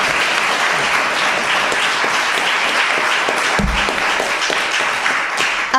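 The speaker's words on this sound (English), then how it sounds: "Go ahead, applaud for that." A congregation at a Sunday service applauds, a full, steady round of clapping throughout with a few sharper individual claps standing out near the middle.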